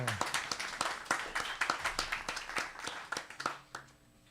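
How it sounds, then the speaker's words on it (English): A festival audience applauds with steady, dense clapping for about three and a half seconds before it fades out. "Give him a big hand of applause, David Kunian."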